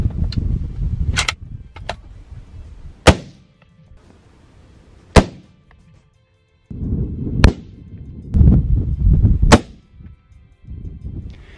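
Rifle shots fired at cardboard target boxes in an open field ring out as about six sharp, loud cracks spaced a couple of seconds apart, with wind and outdoor rumble between them.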